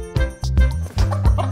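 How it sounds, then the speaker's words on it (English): A hen in a field with her chicks, giving a few loud, close, throaty clucks and calls in quick succession. "Look at the hen in the field with its chicks."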